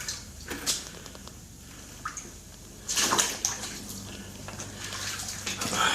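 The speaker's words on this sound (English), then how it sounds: "this is water." Water flowing and splashing inside an underground creek tunnel with pipes, a steady wash of sound with louder surges and echoing drips, no talk.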